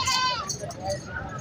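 A goat bleats at the Korangi livestock market in Karachi, a wavering nasal cry near the start among market chatter, with someone talking close by.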